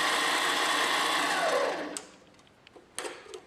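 A lathe in a home workshop drives a tap partway into a threaded hole in a miniature steam engine part, a steady close machine whir for about two seconds before spinning down, followed by a few sharp clicks and handling knocks.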